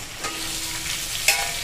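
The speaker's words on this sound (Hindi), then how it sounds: "मेरा चिंगरी मछली फ्राई हो चुका है" Prawns fry in a pan for a Bengali malai chingri curry, giving a steady, close sizzle with a small clatter near the end.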